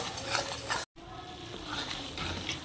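Flour roasting in plenty of ghee is stirred in a kadai for a jaggery sweet, making a continuous soft sizzle with scraping strokes, close up and alone, with a brief cut of silence partway through.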